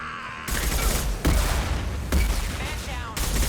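Dense video game gunfire with concussive shots: sustained broadband bursts of shooting, with sharp heavy blasts landing about once a second over a continuous loud rumble, near and overpowering.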